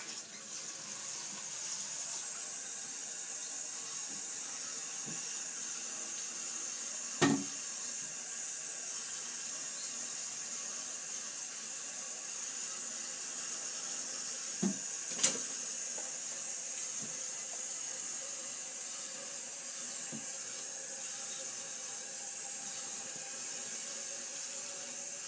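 Steady rush of water filling a toilet tank, a constant hiss running throughout with a few faint clicks and knocks along the way.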